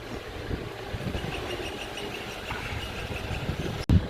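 A borewell repair vehicle's engine idles at an apartment site, a low steady rumble heard from a moderate distance that ends with a brief louder knock.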